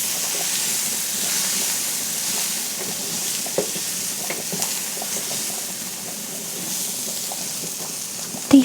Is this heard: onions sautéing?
yes